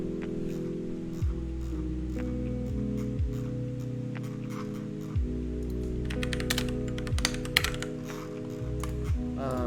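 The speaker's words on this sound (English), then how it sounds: "It's like super fast typing right there." Fast typing on a computer keyboard during a Unity shader programming session, with rapid irregular clicks that turn into a dense flurry near the end, close-up over a steady low hum.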